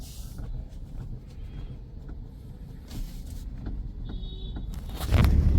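An old car with worn suspension rumbles steadily from inside the cabin, punctuated by scattered knocks and creaks and a heavier clunk near the end; no voices.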